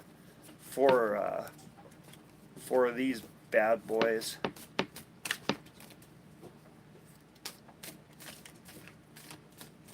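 Crisp riffling and snapping of playing cards being shuffled, several quick bursts close by, with someone talking briefly between them.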